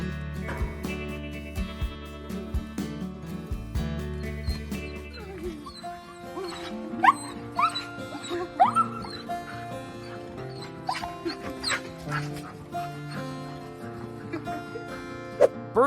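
A dog whimpering and yipping excitedly when reunited with its owner after years apart, with high whines and short barks over a steady background of music.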